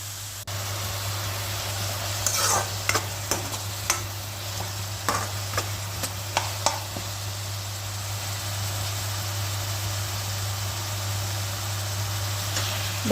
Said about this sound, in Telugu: బాగా వేగిపోవాలి ఉల్లిపాయ అయితే.